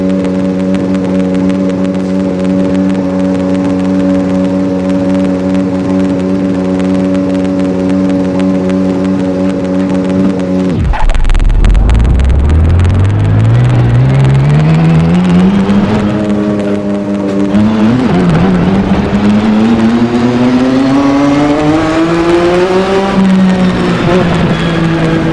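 A racing car engine in a driving video game played on a Logitech G920 wheel drones at a steady idle, then revs up sharply and climbs through the gears, loud and alone.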